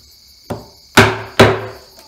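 A wooden mallet drives a chisel to cut a timber-frame mortise by hand, giving three sharp knocks roughly half a second apart, the first lighter than the other two, with a steady high insect chirr behind them outdoors.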